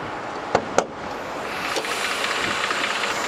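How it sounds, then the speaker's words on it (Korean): Mercedes-Benz W212 E300 with its M272 engine idling quietly, a soft, steady hum heard up close, interrupted early by two sharp clicks or knocks. "엔진음이 굉장히 조용한 엔진으로 유명해요"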